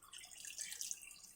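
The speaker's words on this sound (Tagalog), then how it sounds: "At lagyan na natin ng tubig." Water runs steadily into a cooking pot while fish is being prepared with vinegar, a soft, continuous splashing trickle heard up close and fairly faint, with no talking.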